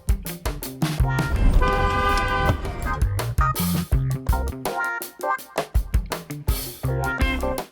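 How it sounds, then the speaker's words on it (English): Car horn honking in traffic at a driver who ran a stop sign and cut in, short toots mixed with louder road and vehicle noise and busy, dense sound throughout. "A lady off camera runs her stop sign and cuts me off, so I honk."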